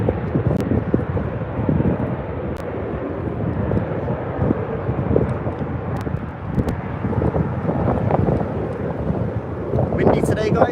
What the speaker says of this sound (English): all you're hearing is wind and you can't really hear me.